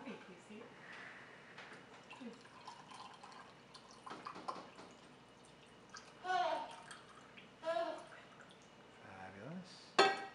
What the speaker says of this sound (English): pick up the water and go ahead and pour that